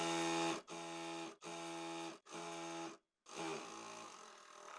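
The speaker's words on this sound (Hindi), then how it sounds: "अब यहाँ पर सिलाई लगाएंगे।" A sewing machine stitching together fabric panels of a twelve-panel kalidar plazo, running in four steady buzzing bursts with brief pauses between them, close by and with no talking.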